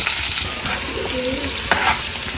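Garlic paste with chili sizzles steadily while being sautéed and stirred in a pan, with a dense close frying hiss and a couple of light utensil scrapes, no speech.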